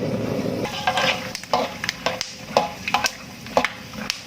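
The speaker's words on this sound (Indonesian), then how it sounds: "saya akan menggoreng bahan-bahan yang sudah saya sediakan di awal tadi." Oil sizzles steadily in a wok as spices fry, while a utensil scrapes and clacks against the metal in irregular knocks, close and fairly loud.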